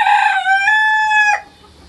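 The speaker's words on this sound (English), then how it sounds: "So I was hoping one of them would crow for you." A dominant rooster in a backyard flock crows once, loud and close, a single drawn-out harmonic call that cuts off sharply.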